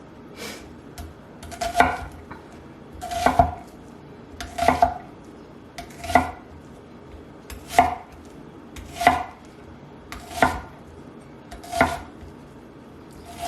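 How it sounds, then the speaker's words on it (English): A knife slices onions on a cutting board in a steady series of about nine distinct chops spaced roughly every second and a half, close and clear with no talk. "So I'm just going to slice through the onions."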